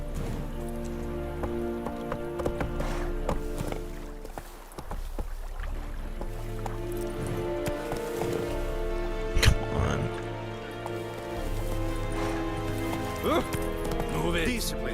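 Hooves from Geralt's horse Roach in the Witcher 3 video game clip-clop at a steady gallop over the game's music and ambience. Voices talk over the hoofbeats throughout.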